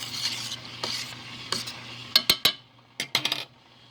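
A fork stirs soup in a pot, giving soft scrapes and a cluster of sharp metallic clinks against the sides, close and fairly quiet with no speech.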